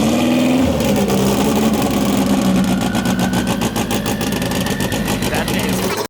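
A 1200HP Honda S2000 drag car engine starts with a brief crank, then settles into a loud, choppy idle that runs steadily with a pulsing rumble, close to the listener, while people talk over it.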